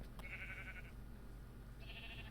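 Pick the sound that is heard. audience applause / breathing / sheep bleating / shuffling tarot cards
sheep bleating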